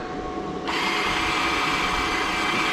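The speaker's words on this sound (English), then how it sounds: "You have to drill a hole through the center of it." A drill boring a hole through metal runs continuously, its broad whirring grinding starting abruptly and holding steady and loud without any talking.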